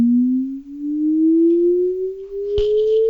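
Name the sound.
synthesized sine tone sweeping in frequency, made with Haskell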